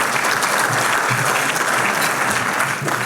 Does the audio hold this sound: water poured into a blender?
no